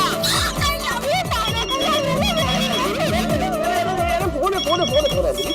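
A telephone rings with repeated electronic bursts under a busy mix of music and voices, the ringing steady and fairly loud throughout.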